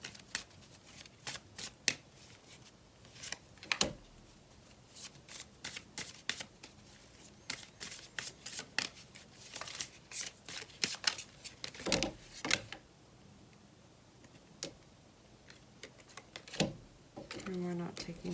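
Tarot playing cards being reshuffled for a pick-a-card reading, with repeated crisp riffling flutters and card slaps at close range, scattered across a quiet background.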